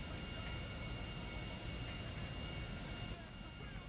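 An airplane lands in a video game, a dense, steady engine roar and broadband rush that holds throughout and eases slightly near the end, with some voice activity blended under the noise.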